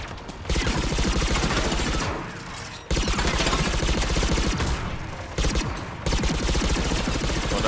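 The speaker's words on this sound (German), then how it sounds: "Und einfach weiter ballern" Dense, sustained gunfire in Mass Effect 3, rapid automatic bursts that are loud and close, with brief lulls between heavy volleys.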